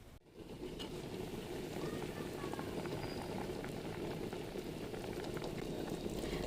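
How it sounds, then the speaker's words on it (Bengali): Chicken pieces boiling in half a spoon of salted water inside a covered pot, a steady close bubbling roar that holds level throughout after a brief dip at the start, with no talk. "5-7 মিনিটের মতো সেদ্ধ করে নেব।"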